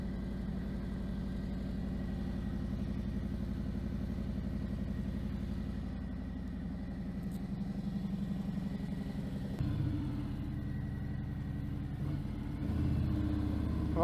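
A Harley-Davidson Fat Bob 114 fitted with a Vance & Hines exhaust gives a steady, deep, loping rumble at low revs, close and continuous, with a slight change in tone partway through.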